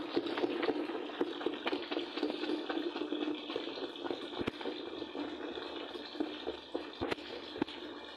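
Water running and splashing into a container as clothes are set to soak, a steady rushing wash with small drips and clinks, continuous and fairly close.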